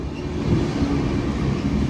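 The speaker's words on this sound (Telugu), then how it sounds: "మన బండి అయితే వెళ్ళిపోతుందండి" Train pulling out of Araku Valley railway station, heard from the outer platform area as a steady low rumble of rolling wagons, close and continuous with no voices.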